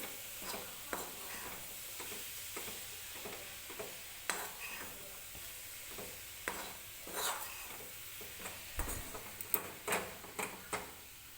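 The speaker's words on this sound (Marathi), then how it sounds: "सतत हलवत राहायचं आहे आपल्याला हे मिश्रण" Fresh grated coconut barfi mixture stirred continuously in a pan over the gas, thickening as it cooks: soft repeated scraping and tapping of a spoon against the pan with a faint sizzle, quiet and close, no voices.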